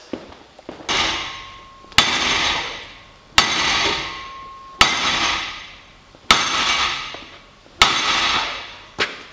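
Hammer blows bending a welded steel joint over in a bench vise, made with a cheap MIG welder onto 5mm steel: six loud, ringing metallic strikes spaced about every one and a half seconds, each decaying before the next, with no talk.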